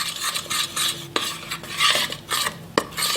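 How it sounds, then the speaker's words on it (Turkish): A metal spoon scrapes a grape molasses and flour mixture from the sides of a pot, with repeated close scraping strokes and a couple of sharp clinks against the rim. "kaşık yardımıyla kenardakileri alalım"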